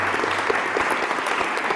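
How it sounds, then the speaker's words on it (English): Steady, dense applause from an audience at a small discussion gathering, continuous and even throughout with no talk over it. "Let's give a round of applause to"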